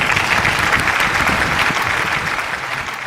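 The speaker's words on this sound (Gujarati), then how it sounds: "તો ચલો તાળીઓની સાથે એમનું સ્વાગત કરીએ" A crowd applauds steadily throughout at an Independence Day celebration, welcoming a 66-year-old performer to the stage, then eases slightly toward the end.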